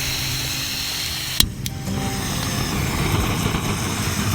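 A BruTrek camping stove jet burner, lit outdoors, snaps on with a sharp click and then roars steadily, a loud, even rushing hiss that carries on alone.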